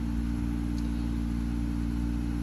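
A 2016 Infiniti Q50 RS400 with a cat-back exhaust, catted front downpipes, resonated x-pipe, 10-inch sport mufflers and an AMS tune idles just after a cold start, giving a steady, close, even low drone with no revving.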